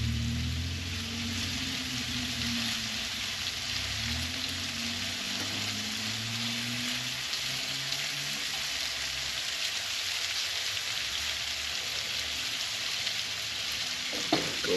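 Shrimp frying over a Camp Chef Deluxe camping stove, a long, even, hissing sizzle like light rain, with a low rumble from the burner early on and a brief clatter at the very end.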